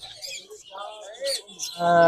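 Green-cheeked conures and lovebirds chirp at a bird market in Mirpur, with short, bright tweets and calls scattered between people talking nearby, ending in a louder harmonic squawk.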